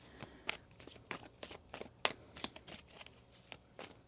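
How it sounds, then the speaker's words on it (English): Cards being shuffled in a series of quick riffling bursts, close and crisp, each burst a soft papery flutter with brief pauses between. "One more shuffle here."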